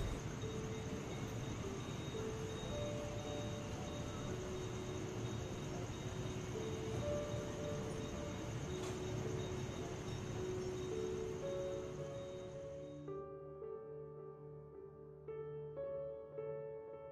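A running commuter train in India rumbles steadily with a high electric whine, moving at speed, then the noise eases toward the end as tonal electric motor notes rise in pitch as if pulling away or slowing.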